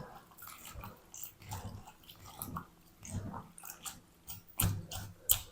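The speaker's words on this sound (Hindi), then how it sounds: "अच्छी तरह मस लेंगे इस तरीके हाथों से।" Bitter gourds being mashed and squeezed by hand in water, wet squelching and sloshing in irregular bursts, close and fairly quiet, with no talk.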